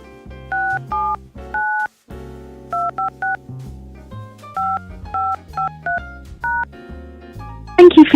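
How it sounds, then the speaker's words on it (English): Telephone keypad tones punch in a PIN on a Blog Talk Radio call-in line: short dual-pitched beeps in quick bursts and pairs, separated by pauses, over a low steady line sound, ending in a brief rush of noise. "I did not hear you press at least 4 digits of your PIN number."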